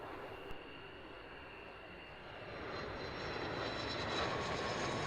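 A Hercules aircraft engine at an airfield, heard as a broad, steady droning roar that slowly swells in loudness, with a faint high whine running through it.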